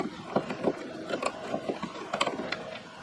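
Hand-tool work on a 10 mm nut on an Audi Q5 brake light housing: scattered small metallic clicks and ratcheting ticks, close and fairly quiet, with no talking.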